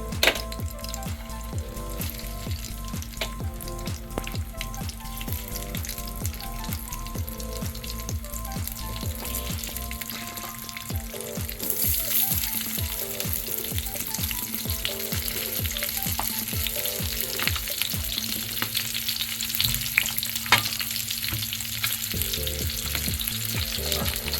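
Stuffed chillies sizzle steadily as they fry in a pan, a continuous crackling hiss with light clinks early on that grows a little louder and denser in the second half, with no talking.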